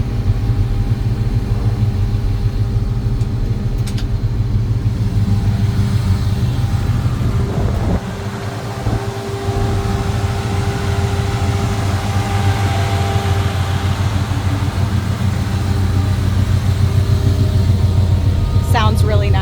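A 1976 Ford F150 with a manual transmission idles steadily after starting, its low engine rumble running continuously and close, with a brief dip partway through and a voice talking over it.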